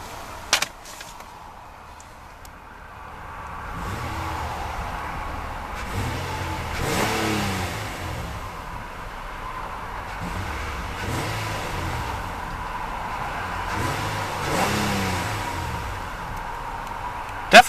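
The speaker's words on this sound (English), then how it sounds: "let's see about a couple of revs of that VQ35 V6 and see what kind of soundtrack she produces" The VQ35 V6 of a 2014 Nissan Pathfinder Platinum 4WD revs several times from a steady idle, each throaty rise swelling and falling back, with a click at the start and end.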